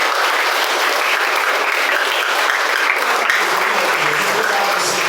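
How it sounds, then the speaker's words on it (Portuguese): A crowd at a religious gathering of young people breaks into loud, close, continuous applause that holds at full strength throughout, with some voices faintly mixed in. "aplaudir esse Senhor maravilhoso"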